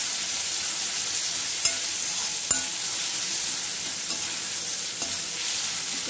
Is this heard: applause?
no